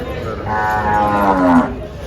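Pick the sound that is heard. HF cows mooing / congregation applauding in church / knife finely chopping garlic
HF cows mooing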